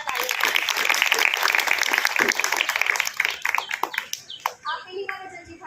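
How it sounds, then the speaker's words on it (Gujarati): Loud, sustained applause from a workshop audience in a community hall, dense clapping for several seconds that thins out near the end, with talking beneath it. "તો સૌ પ્રથમ એ બંને માટે આપણે જોરદાર તાળીઓ"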